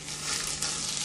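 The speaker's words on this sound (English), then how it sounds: "Do you hear that sizzling sound?" Hot oil sizzles briskly on broccoli, a loud dense hiss with faint crackles, steady throughout the short moment.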